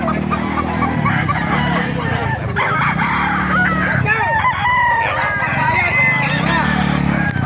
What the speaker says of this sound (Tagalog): Puro mga quality ring manok ni Jolo.